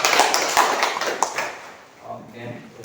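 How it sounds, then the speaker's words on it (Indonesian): A class of students claps briefly in a school informatics lesson, a short burst of scattered hand claps that fades within about a second and a half before a voice begins speaking. "Tepuk tangan"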